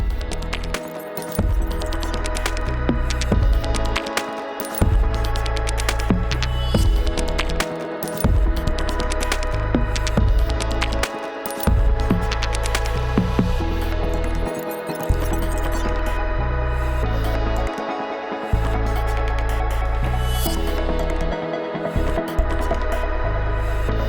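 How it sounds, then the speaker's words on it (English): Repeated bursts of welding on the exhaust pipe of a 1973 Caprice, each a buzzing, crackling run of several seconds separated by brief pauses, with no voices. "It's nice and tight, and I'm just gonna weld her up."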